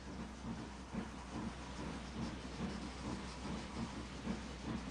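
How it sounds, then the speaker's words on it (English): Steady, soft steam hiss blowing from the sides of a locomotive in the Iron Train video game, continuous and even with a low rumble underneath, no talking. "Steam blows out the sides."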